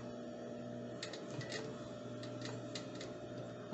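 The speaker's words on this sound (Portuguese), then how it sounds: "vou vir costurando devagarinho" A sewing machine slowly stitches a child's romper fabric, giving a steady mechanical hum with soft repeated ticking clicks of the needle, close and continuous with no talking.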